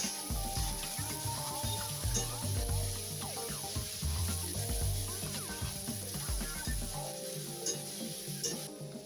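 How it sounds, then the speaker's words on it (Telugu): Finely chopped carrot and cabbage fry in a pan for veg Manchurian, a continuous bright sizzle with frequent stirring scrapes throughout, close and steady. "క్యారెట్ ముక్కలు, సన్నగా తరిగిన క్యాబేజ్ ముక్కలు వేసుకొని లైట్గా ఫ్రై చేసుకోవాలండి, పచ్చివాసన పోయే వరకు"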